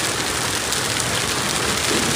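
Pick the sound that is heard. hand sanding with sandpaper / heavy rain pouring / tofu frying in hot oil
heavy rain pouring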